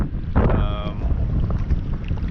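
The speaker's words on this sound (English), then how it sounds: "The wind now is just psychotic at this point." Strong wind buffets a small boat out on Estero Bay, Florida, during fly fishing, a loud continuous rush and rumble with a brief tonal whistle early on, no talking.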